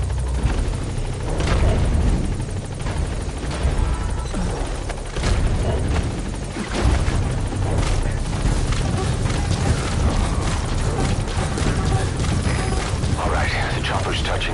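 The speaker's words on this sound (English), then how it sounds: "Chopper's touching down." A helicopter touches down in Metal Gear Solid V, its dense rotor and engine roar filling the scene loudly and steadily throughout, mixed with mechanical rumbles and occasional heavy thuds.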